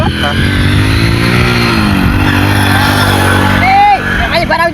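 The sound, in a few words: motorcycle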